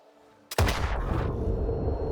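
An RPG-7U rocket explodes close by in STALKER 2, a sharp blast followed by a long, loud rumbling roar and ringing debris that keeps going to the end.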